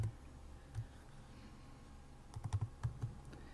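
Keys tapped on a computer keyboard to type a name into a settings field, a few faint clicks at first and then a quick cluster of keystrokes near the end against a low hum.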